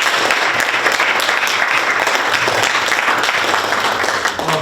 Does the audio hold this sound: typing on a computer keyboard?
no